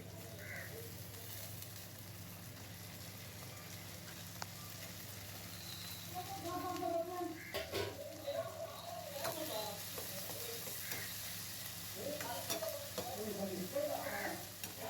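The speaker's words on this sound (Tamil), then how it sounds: "நல்லா அதை வதக்கணும்" Vegetables, ginger, tomato and spices sizzle and crackle steadily in a pan for lentil dal curry, with intermittent stirring and scraping sounds growing busier partway through; no talking.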